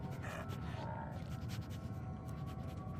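Dogmeat, the companion dog in Fallout 4, pants steadily and close up, quick rhythmic breaths over a dense low game ambience.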